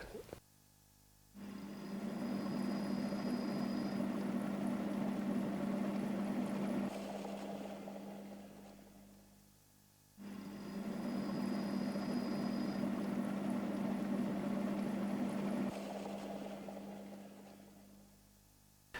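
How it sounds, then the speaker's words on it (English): A Dexibell J7 keyboard's rotary speaker effect, with two swelling bursts of whirring, churning rotor noise over a steady low organ tone, each rising quickly and then cutting off, at a low overall level. "if I press fast, you'll hear the rotor speed up, and actually you hear the true noise that you would have got with a rotary speaker"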